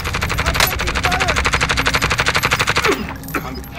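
Rapid automatic gunfire in Call of Duty: Warzone, a loud close burst of evenly spaced shots for about three seconds, then stopping abruptly into a few scattered fainter sounds.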